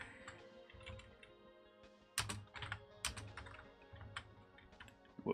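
Fingers tap on a computer keyboard in quick, uneven bursts with small pauses, close and fairly faint, clicking and ticking alone.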